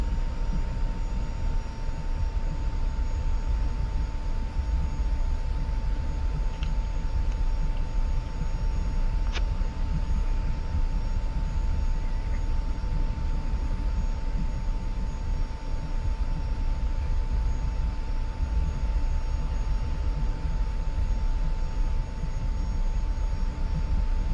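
An F-86F jet in the DCS flight simulator rolls on the taxiways of Groom Lake Airfield, its engine a steady, loud, unbroken roar with a faint constant whine, holding level throughout.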